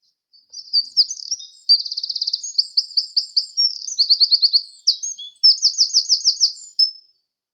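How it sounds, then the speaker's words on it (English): Loud, high wren song sounds close by: several seconds of rapid notes broken by quick rattling trills, ending in a final rolling trill. No voices are heard. "When you hear that bit, you know there's a wren."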